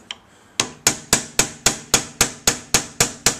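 Rhythmic hammering on a silver ring blank to close it: a lone early tap, a short pause, then about ten bright, evenly spaced metallic strikes, close and loud without any voices.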